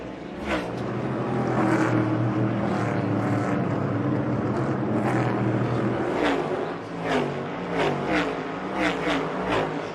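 NASCAR race cars lap North Wilkesboro Speedway in a 2023 heat race, with a loud, steady engine roar building and fading as packs pass, and faint crowd noise beneath.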